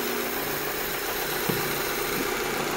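A Honda Civic engine with newly replaced fuel injectors idles with a steady, low hum and a faint mechanical vibration, even and unbroken throughout.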